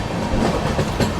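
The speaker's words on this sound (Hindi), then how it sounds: "वो जा रहा है आगे लोकोमोटिव" A train hauled by a locomotive on a curving stretch of track on the Kolkata–Sairang Express through the ghats, with a loud continuous rumble and rhythmic clickety-clack of wheels close by.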